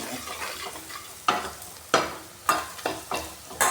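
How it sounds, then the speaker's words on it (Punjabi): Turmeric, dried coriander and other spices roasting in oil in a pan for a pumpkin dish, a low sizzle broken by a regular series of sharp spatula scrapes, close and moderately loud. "ਮੈਂ ਸਾਰੇ ਮਸਾਲਿਆਂ ਨੂੰ ਚੰਗੀ ਤਰ੍ਹਾਂ ਤੇਲ ਵਿੱਚ ਭੁੰਨ"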